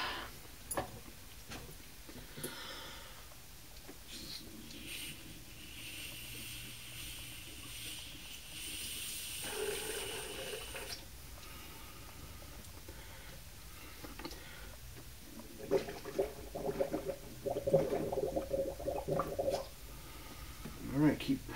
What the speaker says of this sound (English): see if I can blow any more out of the radiator and water block